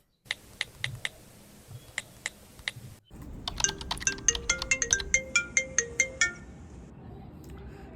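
A phone ringtone plays: a few sharp beeping tones, then a quick melodic run of bright chiming notes that stops abruptly.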